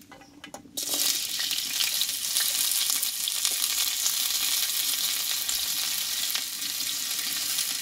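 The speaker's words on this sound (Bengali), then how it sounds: "এখানে কুমড়োর লতিগুলো একটু কষে নেব।" Pumpkin vines frying in mustard oil in a wok give a loud, steady sizzle. It starts abruptly about a second in, after a few soft knocks, and runs unbroken to the end with no voices.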